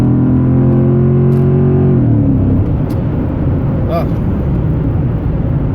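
A Chrysler 300C V8 with 194,000 miles and a replacement engine, heard from inside while driving: a steady droning engine note that drops in pitch about two seconds in, then a rougher rumble of road and engine noise.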